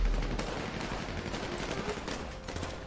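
Continuous rapid gunfire crackles in a chaotic GTA V shootout, with dense overlapping bursts of shots at steady loudness throughout and no clear talking.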